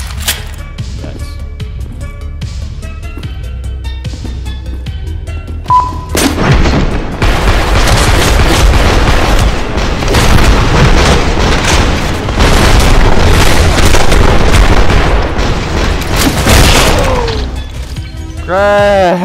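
A grenade detonates in a first-person shooter game, a sudden heavy boom followed by a long roaring stretch of crashing debris and rapid gunfire, loud and dense throughout.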